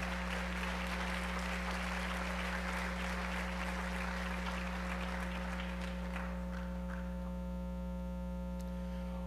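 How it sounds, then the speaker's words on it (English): An audience at the 2016 Black Knights awards show applauds All-American cadet athletes with broad, sustained clapping that fades out over about seven seconds. A steady electrical hum sits underneath and continues after the clapping stops. "How about a round of applause for our All-Americans?"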